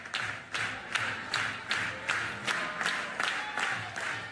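A softball crowd at a college game between Oklahoma and Abilene Christian applauds and cheers after a home run, with rhythmic, repeated clapping bursts rising and falling at moderate volume.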